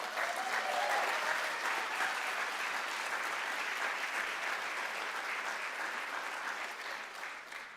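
A large indoor audience applauds the city snow-clearing crew at a State of the City address, with sustained, even clapping that fills the whole stretch and fades slightly toward the end.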